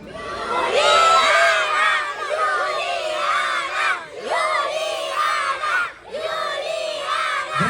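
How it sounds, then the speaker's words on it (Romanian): Children in a festival crowd shout and cheer together in loud, repeated chant-like waves, rising and dipping about four times with brief gaps between surges. "trebuie să strigăm de 3-4 ori până se încălzește ca să urce și Iuliana"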